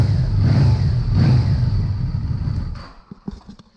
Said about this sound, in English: So I'm going to run the engine just for a little bit longer